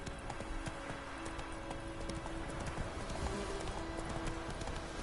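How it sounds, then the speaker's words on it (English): Clip-clop of Roach's horse hooves in The Witcher 3 video game, a steady trotting rhythm against continuous game ambience, with faint birds and no speech. "Come here, Roach. My trusty steed."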